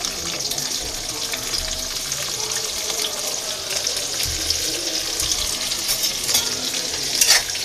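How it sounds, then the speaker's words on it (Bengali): Onions fry in hot oil in a home kitchen pan, with a loud, steady close sizzle and stirring scrapes throughout, rising briefly near the end, with no one talking. "আমি প্রথমে তেল গরম দিয়ে নিয়েছি, এর সাথে আমি পেঁয়াজ দিয়ে নেব।"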